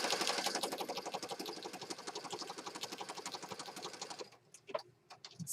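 A sewing machine runs fast and steadily, stitching through a handmade peacock-themed paper journal even though it is not threaded correctly; the rapid even ticking carries on close by for most of the clip, then stops, leaving a few faint clicks.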